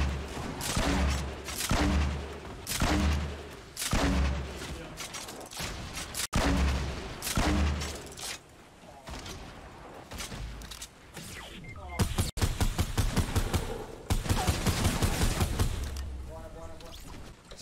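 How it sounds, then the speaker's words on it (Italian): Grenades from a double grenade launcher burst repeatedly in a Fortnite match, loud booms and rapid gunfire-like cracks in clusters, with someone talking over much of it. "Gli tiro le granate, c'ho doppio lanciagranate"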